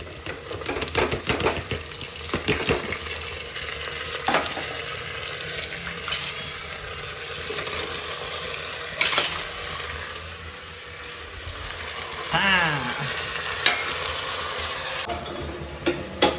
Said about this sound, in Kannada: ಆನಿಯನ್ ಇವಾಗ ನೀಟಾಗಿ ಆಯಿಲಲ್ಲಿ ಫ್ರೈ ಆಗ್ತಾಯಿದೆ.